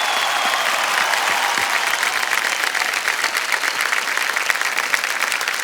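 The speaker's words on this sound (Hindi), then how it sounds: "तालियां बजती रहे इनके लिए।" The studio audience of KBC India, a televised quiz game show, keeps up loud, continuous applause for a contestant taking her seat, a dense wash of clapping with no break.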